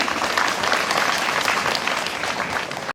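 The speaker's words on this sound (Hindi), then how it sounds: "एक बार जोरदार तालियां बजा देंगे।" A school audience at a science, arts and craft exhibition in Gumla gives loud, sustained applause as a guest is honoured with a shawl, the clapping thick and even throughout before stopping sharply at the close.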